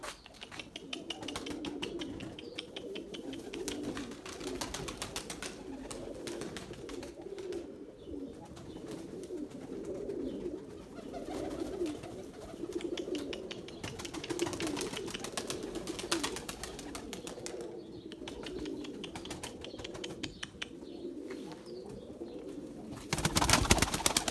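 Erzurum white pigeons coo in soft, repeated throaty bursts close by, with faint chirps and small rustling noises around them in a quiet loft.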